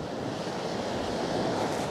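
Strong wind roars steadily at the shore by the Scala dei Turchi in Sicily, mixing with the wash of surf in a dense, continuous noise.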